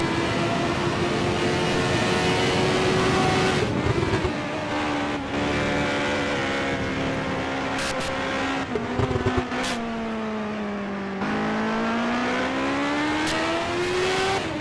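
1988 CART race cars at the Budweiser/G.I. Joe's 200 accelerating down the straight, a loud sustained engine drone rising and shifting in pitch as cars pass, with no talk.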